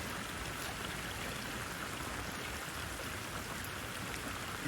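Steady rain falls on a pond, making a dense, even hiss of small drops hitting the water surface. The sound stays constant and close the whole time, with no voices.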